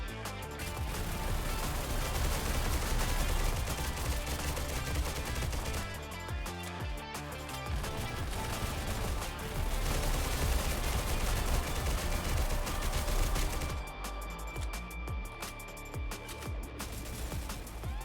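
Rapid bursts of MK47 Mutant rifle fire in a first-person shooter game crackle almost continuously, with brief pauses between volleys over a background of game music.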